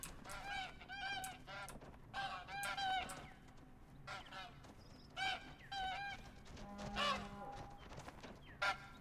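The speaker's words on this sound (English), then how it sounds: "Flying with the birds. Oh, they're coming down to land?" Flock of geese honking repeatedly in the Hunting Lodge video game, Revontuli Coast map, as the birds fly over and come down to land; a steady stream of overlapping calls, moderately close, with no talk.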